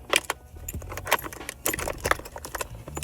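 A bunch of keys is rummaged through in search of a wheel lock key for a Nissan 350Z, making close, bright jangles and clinks in irregular bursts.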